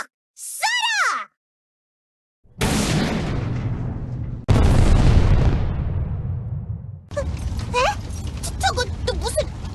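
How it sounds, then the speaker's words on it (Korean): Cannon bombardment in the Trickcal Revive video game: heavy booming blasts and rumbling explosions roll in back to back after a brief high squeal, loud and close, followed by crackling debris and cartoonish character yelps. "이 녀석들아! 포격이다!"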